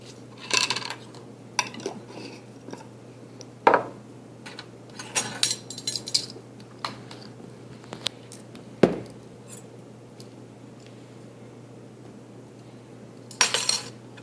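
A spoon clinks and taps against a glass or bowl while half a teaspoon of white sugar goes into yeast in warm water, with scattered sharp metallic clicks and scrapes close by, separated by quiet pauses and a steady low hum.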